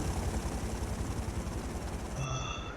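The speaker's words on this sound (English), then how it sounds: "The helicopter's chasing me, but that's no big deal." Video game helicopter rotors thump in a fast, continuous rhythm, loud and close, with a steady engine drone filling the whole stretch.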